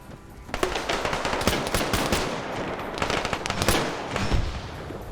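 Full-auto machine gun fire in a multiplayer shooter match rattles in long dense bursts, loud and close with overlapping shots and a few heavier booms, no speech over it.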